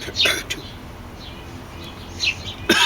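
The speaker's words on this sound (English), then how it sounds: "It's just a sparrow." A sparrow gives a few short, high chirps in brief bursts against a quiet background, with no talking.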